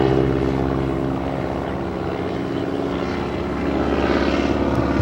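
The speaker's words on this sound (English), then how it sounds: "He's going to stall the airplane." A propeller-driven aerobatic airplane at the 2008 Blue Angels Homecoming airshow, flown by John Mohr, drones steadily through a maneuver, its engine loud and sustained and swelling slightly toward the end.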